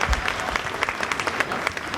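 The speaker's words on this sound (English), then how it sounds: "Yeah, you give her a round of applause." Audience at a 5th and 6th grade winter instrumental school concert applauding a flute soloist, a dense, lively burst of many hands clapping together for a couple of seconds.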